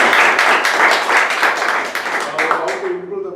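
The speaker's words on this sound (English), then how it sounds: "So give him a big round of applause." A hall audience at a company meeting claps in a dense, steady wash of applause that holds loud for several seconds and then tapers off.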